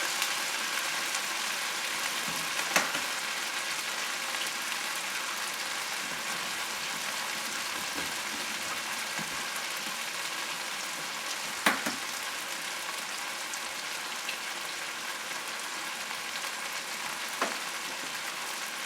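Raw shrimp fry in a hot pan with a steady, soft hiss of sizzling that carries on throughout, broken by a few faint clicks and taps.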